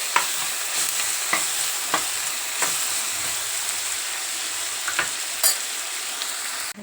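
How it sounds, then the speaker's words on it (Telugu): Ginger garlic paste frying in oil with cumin and coriander, a continuous bright sizzle broken by frequent scraping stirs and light taps of a spoon on the pan, close and unaccompanied by talk. "దీంట్లోనే జీలకర్ర, ధనియాలు అవన్నీ వేసిన స్మెల్ పోయేదాకా కొంచెం ఫ్రై చేసుకుందాము."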